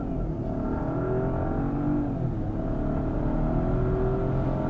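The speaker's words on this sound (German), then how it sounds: "Jetzt bin ich mal in den Dynamik-Mode gewechselt, um hier einmal hoch zu beschleunigen." A 2021 Jaguar E-Pace P300e AWD R-Dynamic plug-in hybrid accelerating at full throttle in dynamic mode, a steady loud engine drone with a rising whine, heard from inside the cabin with no talk.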